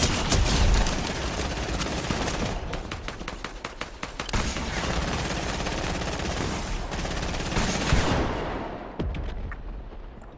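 Dense, sustained video-game gunfire, rapid overlapping shots rattling continuously and loudly with no gaps for about ten seconds.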